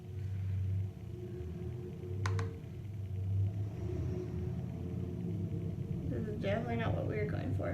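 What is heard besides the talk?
truck driving by outside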